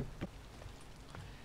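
Steady rain falling in the game Vintage Story, a soft, faint continuous patter with a few slightly louder drops.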